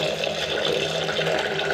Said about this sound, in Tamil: இப்போ இந்த பலாக்கொட்டை மூழ்குற அளவுக்கு நம்ம தண்ணி சேர்த்துக்கலாம்.